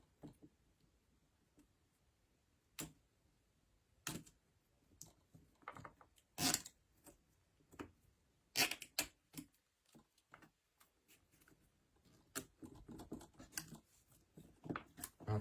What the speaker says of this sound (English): And then you're zip tying your corner ends down here.